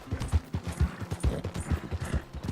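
Steady clip-clop of a horse's hooves in Red Dead Redemption 2, many quick, regular hoofbeats in a trotting rhythm, close and moderately loud with no voices.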